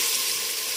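Marinated chicken hits hot, previously used frying oil in a pressure cooker, giving a loud, steady hiss of sizzling with no break and no voices.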